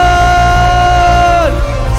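A church congregation at a Sunday worship service cheers loudly, one long sustained shout sliding down in pitch at the end over a roaring crowd din.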